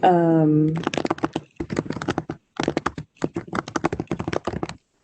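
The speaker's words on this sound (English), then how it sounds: "Typing." Rapid clattering keystrokes on a computer keyboard in bursts and short pauses, close and fairly loud, right after a brief voiced tone at the start.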